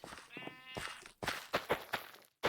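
Sheep bleat in the video game Minecraft, several short calls in a quick series, near and fairly loud with soft footstep-like taps between them.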